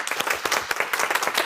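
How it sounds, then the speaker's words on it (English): A live audience bursts into applause right after a speaker is introduced on stage, dense steady clapping filling the room at close range with no voices over it. "The crowd goes wild."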